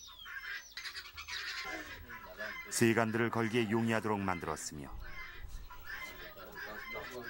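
Chickens clucking beside a small clay chicken house at an earthen mud home, a brief burst of close clucks and squawks mixed with a narrator's voice speaking throughout.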